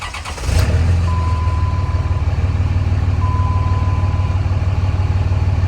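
The diesel engine of a 3rd gen Cummins truck with a swapped 6-speed manual cranks briefly and catches, then settles into a loud, steady idle while a faint chime beeps twice in the background.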